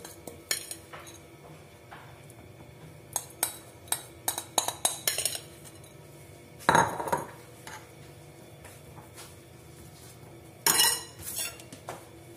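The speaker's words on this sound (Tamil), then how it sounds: "இப்போ இந்த மீதி மசாலா இருக்குது பார்த்தீங்களா, இதை வந்து இந்த பாட்டிலில் இப்படி மேலே போட்டுடணும்." Leftover masala spooned onto green chilli pickle in a bottle makes scattered metallic clinks and scrapes of a spoon against glass and steel, with a few louder knocks and no voices.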